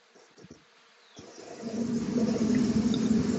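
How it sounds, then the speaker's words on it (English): A honey bee swarm fans and flies in toward a hive box set beneath a swarm clustered high up; a few faint buzzes give way to a loud, steady, dense hum of many wings close by. "and all the bees in the air are coming to the box."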